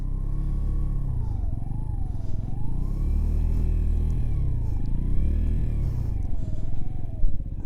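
A Sinnis Apache SM 125 motorcycle pulls away while turning in the road, its small engine rising and falling in pitch through a few revs, moderately close and steady.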